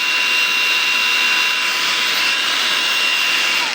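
A 3-in-1 combo power drill runs steadily at low speed, giving a loud, continuous high-pitched whine with a faint tonal hum and no pauses or voices.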